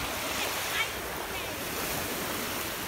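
Surf rolls in at Fort De Soto Beach, Florida, a steady broadband wash of waves mixed with wind buffeting the microphone, with no distinct voices.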